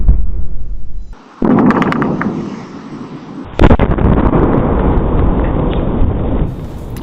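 A meteor's double sonic boom, recorded in Massachusetts, gives two deep booming blasts a couple of seconds apart, each followed by a long rumbling tail, loud and distant-sounding with no talk.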